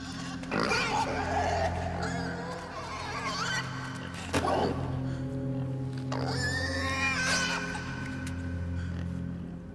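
Pigs grunt and squeal in the dark puzzle-platformer Inside, several loud snorts and squeals over a steady low mechanical hum, close and continuous across the stretch.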